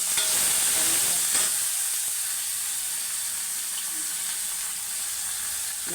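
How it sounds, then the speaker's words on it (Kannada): Tempering for puliyogare crackles in a hot pan as a continuous close sizzle, loud at first and then settling into a steady hiss, with a few light clinks and no talk. "ಇಲ್ಲೇ ಪುಳಿಯೋಗರೆ ಸಲುವಾಗಿ ಒಗ್ಗರಣೆ ಕೊಡೋಕೆ ಜಾಸ್ತಿ ತೊಗೊಳ್ತೇನೆ"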